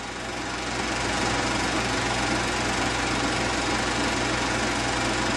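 An Allis Chalmers WD-45 tractor engine runs steadily in the field, producing a dense, loud, even rumble with a rapid mechanical clatter that holds constant throughout.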